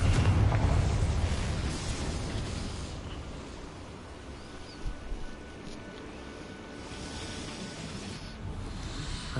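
A Confringo spell explosion in Hogwarts Legacy bursts in a loud rumbling blast at the start, then decays into a long hissing, roaring wash that fades and lingers quietly without speech.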